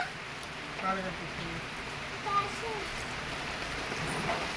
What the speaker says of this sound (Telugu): వాన పడుతుంది కదా